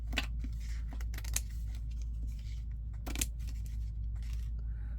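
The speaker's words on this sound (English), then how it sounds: "let's trim with my fabric scissors." Fabric scissors trim excess lace on a handmade junk journal envelope, giving a few separate crisp snips and cuts close by, with soft rustling of paper and lace between them.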